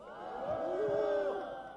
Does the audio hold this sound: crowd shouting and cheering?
yes